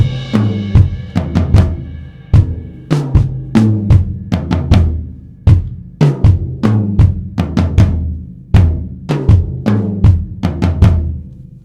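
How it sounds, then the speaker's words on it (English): A drum set plays a tom groove, a crash cymbal opening before fast strokes roll down from the high tom through the medium tom to the floor tom. The hits are loud and close, in repeating rhythmic phrases with no talk. "Once we get to measure 17, we have this really cool tom groove."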